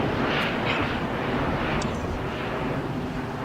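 Private jet departing on runway 25 at LAX, heard as a loud, steady engine roar with broad rushing noise from start to end and no talk.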